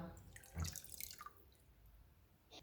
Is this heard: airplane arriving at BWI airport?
no